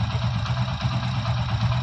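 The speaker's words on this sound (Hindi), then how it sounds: "इंजन का साउंड सुन लीजिए" A Hero Splendor motorcycle engine idles after a clutch plate change, a close, steady low throbbing putter with an even rhythmic pulse and no voices.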